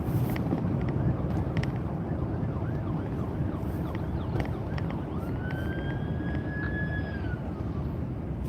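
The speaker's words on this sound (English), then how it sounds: "So that was a North Memorial ambulance going to the hospital." A North Memorial ambulance siren wails as it passes through light snow in Minneapolis, faint and distant under steady road and wind noise inside a moving vehicle.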